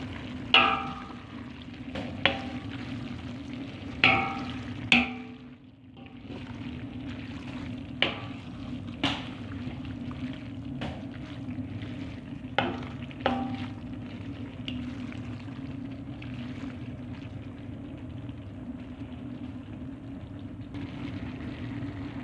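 Saç kavurma meat frying in a large saç pan for a 40-person army-style batch, giving a faint, steady sizzle broken by occasional sharp clinks and scrapes from stirring.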